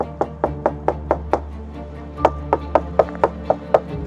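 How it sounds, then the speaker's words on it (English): Police knock on a house door, a long run of evenly spaced hard knocks, about eight then a brief gap and six more, loud and near with steady background hum. "But after knocking on every door and window,"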